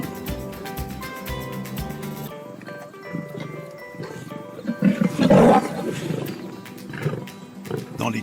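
Lions roaring in the wild, with deep rumbling growls swelling loudly near the middle and tapering into lower grunts, heard over a steady background music bed.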